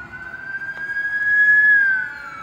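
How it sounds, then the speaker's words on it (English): A police cruiser's siren wails past in a single long, rising and falling tone, loud and near, with road noise from the passing vehicle underneath. "Sorry, police cruiser's driving by."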